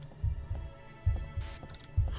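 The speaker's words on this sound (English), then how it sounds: "I also need something to get my heartbeat out of my ears." In the horror video game Death Unknown, a heartbeat thumps as a low, muffled double-pulse repeating roughly every second over a faint droning hum, with a brief hiss in the middle.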